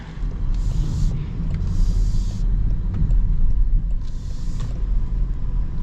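Range Rover Sport plug-in hybrid accelerates hard under full pedal, a deep low rumble swelling steadily from inside the cabin with faint road noise and no voices.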